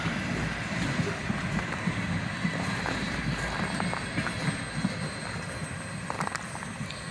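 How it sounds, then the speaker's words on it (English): A long cut of tank cars on the rear of a CSX freight train rolls past in a continuous, broad roar with faint clanks and squeals, steady and moderately close, with no voices. "there was a big cut of tankers on the rear of the train that took about 4 minutes to go by"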